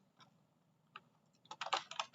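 Typing on a computer keyboard: a few isolated key clicks, then a quick burst of rapid, close-up keystrokes near the end, with no speech.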